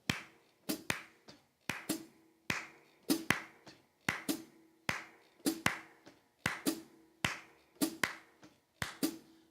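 A drum kit works a half note triplet figure on snare and bass drum, sharp close hits landing in a repeating rhythmic pattern of grouped strokes, moderately quiet and with no talking.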